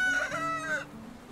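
A rooster in the farming game Medieval Dynasty gives a single drawn-out cock-a-doodle-doo crow, loud and close. It ends in quiet ambience with no speech.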